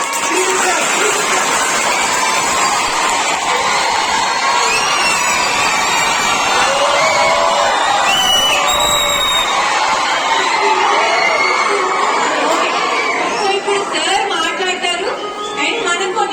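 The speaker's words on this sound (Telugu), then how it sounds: "so give a big round of applause" A large audience cheers, whoops and shouts in welcome for a guest at an interactive event, a loud, sustained crowd roar with high-pitched shrieks and clapping throughout.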